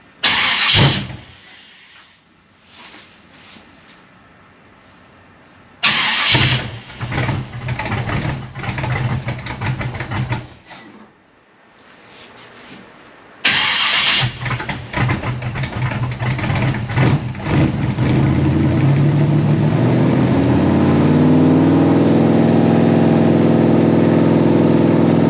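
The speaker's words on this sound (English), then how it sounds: "the best part of this car is just the lopey idle" A 1955 Chevy Nomad V8 cranks and catches with short bursts, then settles into a loud, steady, lumpy idle that continues close by to the end.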